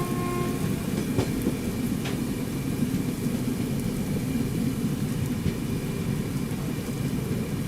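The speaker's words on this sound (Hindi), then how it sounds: "वैसे अगर देखा जाए तो बहुत बारिश हो रही है" Heavy rain pouring steadily outdoors in the Konkan region, a dense loud roar of falling water with occasional sharper spatters, no voices.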